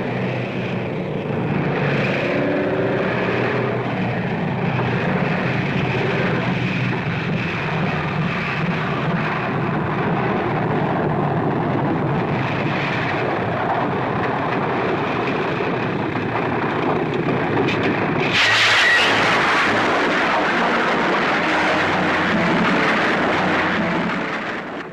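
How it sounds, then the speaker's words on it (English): Formations of WWII Dakota transport aircraft pass over Geel in northern Belgium, a loud continuous propeller-engine drone overhead that swells and shifts in pitch, with an old archival recording quality. "Formations of Dakota aircraft fly over the town of Geel in northern Belgium after completing missions near the Dutch frontier."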